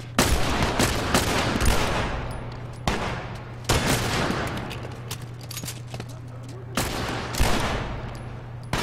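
Pistol gunfire in the video game The Last of Us Remastered: repeated loud, close shots and bursts separated by brief pauses, with game voices faintly underneath.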